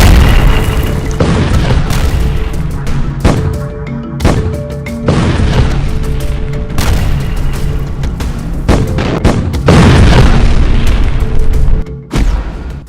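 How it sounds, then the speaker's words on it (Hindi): Bombing explosions in the Gaza Strip, a dense run of loud booming blasts and rumbles, one after another with barely any pause, close and overwhelming throughout. "27 अक्टूबर की रात हुई भयंकर बमबारी में गाजा में 150 से ज्यादा अंडरग्राउंड सुरंगें पूरी तरह से तबाह हो गई हैं"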